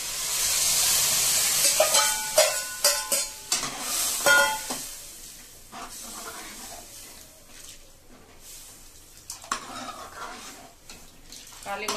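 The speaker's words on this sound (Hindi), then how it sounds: "अब ये टमाटर भुन जाओ तब हम दाल डालना पड़ेगा" Tomatoes being fried and stirred in a pan while making dal tadka, an Uttarakhand dish; a steady sizzle runs throughout with stirring scrapes and clinks of a utensil against the pan, close and moderately loud.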